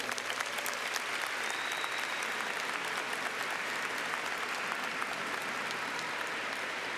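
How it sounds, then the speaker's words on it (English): Sustained applause from a large commencement audience honoring families and teachers, a dense steady wash of clapping that holds without a break throughout, with no voices above it. "Let's give them a round of applause."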